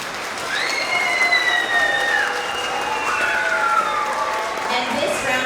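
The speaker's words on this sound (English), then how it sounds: "Everyone in the audience, give a round of applause" An audience at a kindergarten-to-second-grade end-of-year award assembly breaks into steady, loud applause with some cheering, continuous throughout, with a few voices rising above the crowd.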